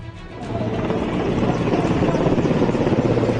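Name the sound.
helicopters flying over, showering flowers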